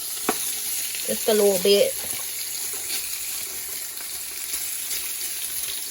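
Sliced peppers and onions sizzling in a pan beside cooking Italian sausages, a steady close frying hiss with brief scraping as they are pushed around; a voice speaks briefly over it.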